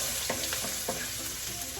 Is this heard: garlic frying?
yes